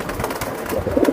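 A brief, close burst of Bezi pigeons cooing, with low throaty warbles that swell near the end over a busy background of rustling and movement.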